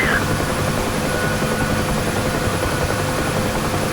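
UH-1 Huey helicopter in the DCS flight game, sitting on the field before takeoff, its rotor and turbine making a loud, steady, unbroken drone with a thin high whine on top.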